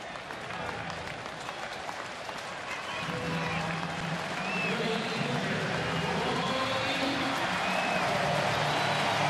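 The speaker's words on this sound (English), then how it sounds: "probably get a really nice round of applause right here" A baseball stadium crowd breaks into sustained applause and cheering for a batter coming up, the clapping swelling after a few seconds into a broad, steady roar, with a commentator talking over it.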